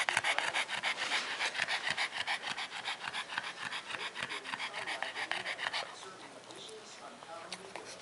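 A pug pants rapidly and loudly up close, a fast rhythmic huffing that eases off near the end, with someone talking over it.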